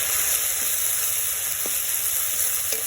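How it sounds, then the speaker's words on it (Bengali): Garlic paste and ginger-cumin paste sizzle steadily in a hot pan for a potato dum curry, a loud, even frying hiss with a couple of faint stirring scrapes. "এবার আমি ভালো করে কষিয়ে নেব।"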